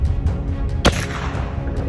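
One sharp rifle shot rings out during a mountain lion hunt in Sonoma County, a single loud crack midway through amid a rumbling outdoor background, with no voices.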